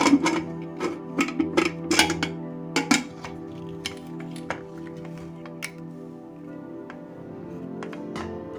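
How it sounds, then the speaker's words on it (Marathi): Metal lid of a pressure cooker being fitted and closed in a home kitchen while cooking misal, a cluster of sharp metallic clanks and clinks up close, then quieter scattered taps and clicks. "त्याचं टोपण बंद करून घेणार आहे आपण कुकरचं"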